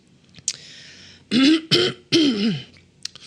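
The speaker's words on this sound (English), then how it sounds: "Let me clear my throat." A person clears their throat up close, three rough, raspy bursts in a row after a short breath, with nothing else around.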